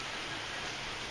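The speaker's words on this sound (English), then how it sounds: "Still raining out." Rain falls steadily outside a garage, a soft, constant hiss of drops on surfaces with no breaks and no voices.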